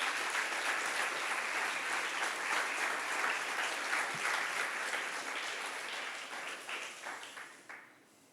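A church congregation applauds steadily during a Spanish-language sermon, a dense wash of many hands clapping that holds strong before gradually thinning and fading out near the end.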